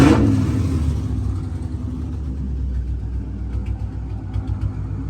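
A cold Ford Mustang with a resonator-delete straight-pipe exhaust and an exhaust leak rumbles close by, starting with a sharp blip and settling into a low, uneven idle with light revs.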